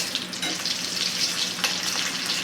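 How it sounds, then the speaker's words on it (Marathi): Slit green chillies frying in hot oil for vada pav give a dense, continuous crackling sizzle, with a couple of faint spatula touches and no voices. "तेल गरमच आहे त्याच्यामध्ये आपण ह्या मिरच्या फ्राय करून घेऊया"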